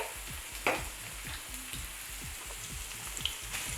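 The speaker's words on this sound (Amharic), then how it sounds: "ከዛ ዘይታችን ሲግል ጠብቀን እንደዚህ የከተፉትን ሽንኩርት እንጨምራለን።" Chopped onion sizzles and fries in hot oil, a steady close crackle with rhythmic stirring scrapes throughout, with no talk over it.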